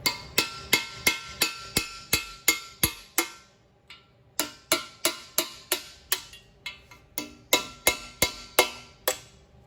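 A part of a marine Ford 351W engine being hammered out, with sharp metallic hammer blows in three quick, evenly paced bursts, each separated by a short pause.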